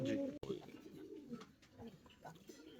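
Almond fancy pigeons at a farm coo in a low, continuous murmur, close by, with a sharp brief knock early on and talk mixed in.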